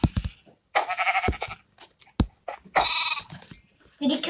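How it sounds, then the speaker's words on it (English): Several sheep bleat in a video game as the player crowds a house turned into a sheep farm, short cries repeating at close range in an irregular run with brief gaps between them. "There's so many sheep."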